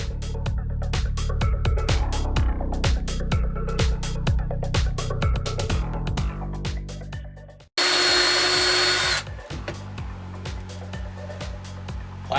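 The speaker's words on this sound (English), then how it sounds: "we're going to take and drill all 18 of these holes, or 16 of these holes right now" A power drill bores holes in plastic up close, the motor whining with rapid repeated bursts and clicks as the bit bites, then a sharp loud high-pitched burst of spinning before the drill runs on more steadily.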